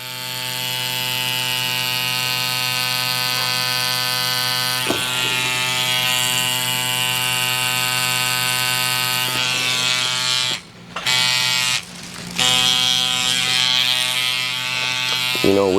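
A tattoo machine needle buzzes steadily and close while tattooing a Super Mario design, a loud constant electric hum with a couple of brief pauses near the end.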